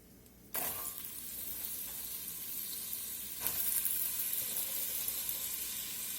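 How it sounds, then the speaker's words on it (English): Onions dropped into melted butter and olive oil in a pot give a sudden sizzle that settles into a steady medium-loud frying hiss, swelling briefly as more onions are added, with no voices. "Put a little olive oil in, about a tablespoon. And we're going to start adding these onions."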